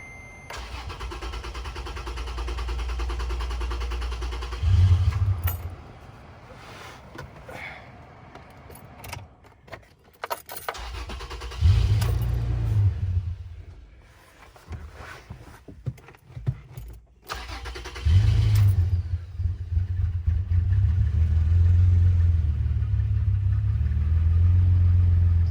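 A Toyota FJ Cruiser running on gasoline contaminated with diesel and dosed with Seafoam idles roughly, cranking to life several times with low, uneven engine rumble that surges and dips between restarts, close by with no talk.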